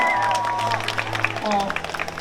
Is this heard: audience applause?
yes